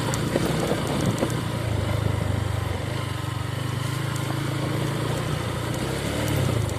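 A motorcycle engine drones steadily and close while riding along a damaged, wet rough road in Wirasaba, Purbalingga, a continuous mid-pitched hum with slight rises and dips.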